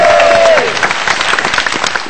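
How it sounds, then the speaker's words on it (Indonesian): Audience applause at an Indonesian marketing seminar, a dense burst of clapping from a crowd that fills the room, steady and loud, with a short tonal squeal from a microphone near the start. "Kasih tepuk tangan dong, kasih suara."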